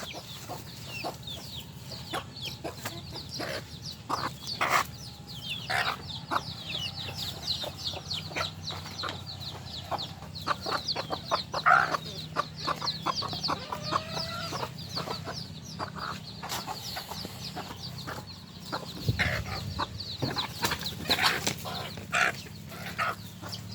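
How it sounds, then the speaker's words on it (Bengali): Chickens cluck and peck busily while eating feed on a village farm, a close, continuous chatter of short clucks and scratching with a few louder calls scattered through. "এই যে দেখুন মুরগিগুলো খাচ্ছে"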